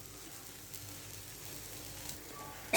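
A soft, steady sizzle of kuskara, a crumbled flatbread breakfast dish, frying in a kadhai, faint and continuous, ending with a brief louder clatter.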